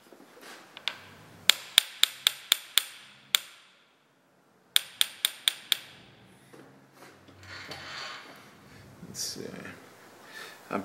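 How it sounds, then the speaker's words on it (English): A small hammer taps metal on a machined part in two quick runs of sharp, ringing strikes, about six each, close and crisp, with faint shuffling and handling noise afterward. "I'm using my little hammer."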